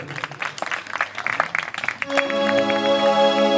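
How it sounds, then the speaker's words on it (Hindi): A crowd claps for daughters at a religious jagran, a dense burst of clapping at close range that gives way to sustained devotional music with a steady drone. "एक बार बेटियों के लिए ताली बजा दो"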